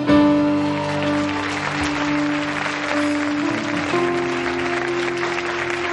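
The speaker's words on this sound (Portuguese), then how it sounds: "Se você quer isso, aplauda Ele." Church congregation applauding during a sermon, broad clapping from a crowd heard over sustained organ or keyboard chords that shift pitch partway through, moderately loud and continuous.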